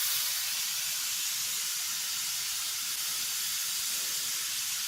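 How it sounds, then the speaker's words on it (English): Steam hisses from the open relief valve of a pressure canner cooling at about 5 pounds, a loud, steady, unbroken hiss close up with no talking. "I got the steam relief valve open"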